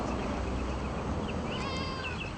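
A cat gives a couple of faint, thin meows late on, partly masked by steady background hiss and room noise.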